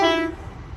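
A brief burst of train engine or horn tone as a train departs Ely station on the Fen line, fading quickly into low rumble and ambient noise.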